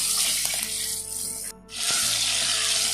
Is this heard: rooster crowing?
no